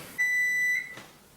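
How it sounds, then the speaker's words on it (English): A kitchen timer gives one sustained electronic beep lasting just over half a second, loud and close, then cuts off into a quiet room. "And there's my timer."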